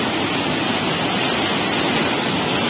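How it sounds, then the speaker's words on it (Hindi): Fast-flowing water rushes steadily through a canal gate, a loud, continuous broadband roar with no pauses, close by and uninterrupted, with no talking audible over it. "काफ़ी स्पीड से पानी है यहाँ पे"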